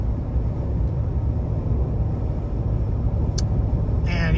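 Interior road noise from a 1999-2007 Chevy or GMC truck cruising after new ball joints, wheel bearings and an alignment, a steady low rumble and tyre drone, loud and even, with a brief faint click near the end.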